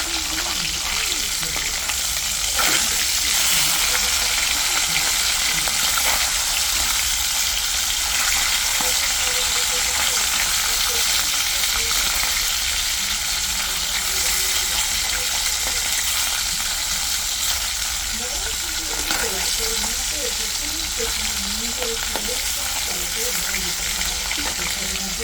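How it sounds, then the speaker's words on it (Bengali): Hilsa fish pieces fry in hot oil in a wok with a loud, steady, crackling sizzle that holds unbroken for the whole stretch, close to the pan. "তেল গরম হয়ে গেছে, এখন একে একে মাছগুলি ভেজে নেব।"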